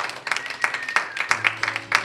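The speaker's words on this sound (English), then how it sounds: "Big round of applause for the VFW." Audience applause for the VFW at a hosted live music event, a dense run of claps with bursts of sharper hand strikes, fairly close and steady for about two seconds.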